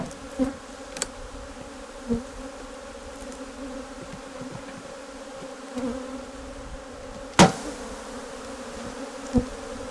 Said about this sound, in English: shake the bees we want